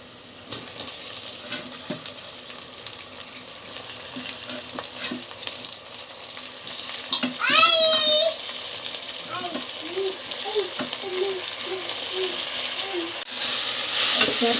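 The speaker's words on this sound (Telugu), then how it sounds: "ఉల్లిపాయలు అయితే ఫ్రై అవుతున్నాయి." Onions frying in a pan for a prawn and gongura curry give a steady, close sizzle. There is some stirring and scraping, and someone speaks over it for part of the time.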